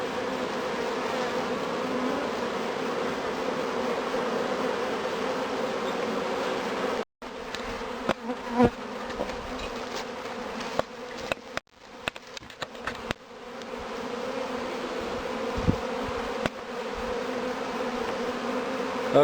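Honeybees fan at the entrance of a nucleus hive in spring, a close, continuous buzzing drone interrupted partway by a few brief knocks and gaps before the steady hum resumes.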